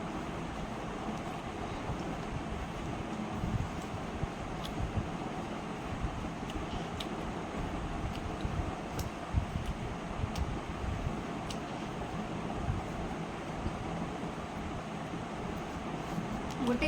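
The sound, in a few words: electric fan running in the room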